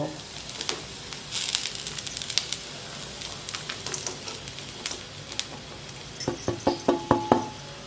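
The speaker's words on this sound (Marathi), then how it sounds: "आता कांदा छान परतलाय आता हे रवा घालू" Semolina is added to sautéed onions in a pan for upma, giving a soft, continuous sizzle with light scraping and stirring taps that grow busier toward the end.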